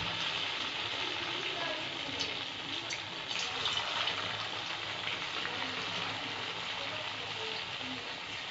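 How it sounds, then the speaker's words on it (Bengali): Small noodle pakoras fry in hot oil, six at a time, a continuous soft sizzling hiss at low level throughout. "এবার আমি পকোড়াগুলো ভেজে নেব, ছোট ছোট করে আমি ভাজব"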